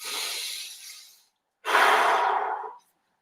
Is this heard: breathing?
yes